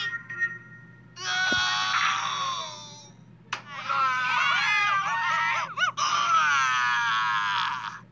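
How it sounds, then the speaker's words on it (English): Screaming cantaloupe character from the Annoying Orange Splatter Up video game, giving loud, wavering cartoonish shrieks in two long bursts separated by a short pause. "does that screaming cantaloupe sound a lot like grapefruit from Bob Jens"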